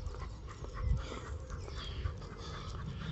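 An elderly female dog, eighteen years old, pants steadily on a walk near old canal locks, close and fairly quiet, with soft breathy bursts over faint outdoor background.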